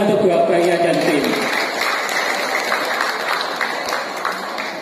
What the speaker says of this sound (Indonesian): Tepuk tangan untuk Buah Bahia dan tim.